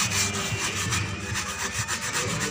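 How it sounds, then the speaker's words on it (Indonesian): A car dashboard is gently scrubbed to lift crusted mould, a steady back-and-forth rubbing in quick, regular strokes, close to the microphone and with no voices. "Pelan-pelan kita gosok dengan rata."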